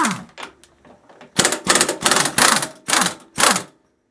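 Pneumatic impact gun run off an AC Delco air compressor with a 1/2 inch attachment, firing several loud, close, rattling hammering bursts in quick succession after some lighter mechanical clicks, with no talking.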